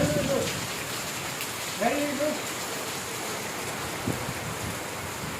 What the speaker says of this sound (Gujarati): વરસાદ ચાલુ થઈ ગયો છે પવન એવો છે વરસાદ છે